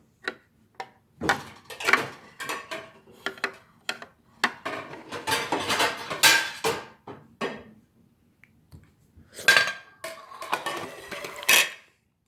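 Plates and spoons clink and clatter nearby in scattered bursts, with short quiet pauses between the handling sounds.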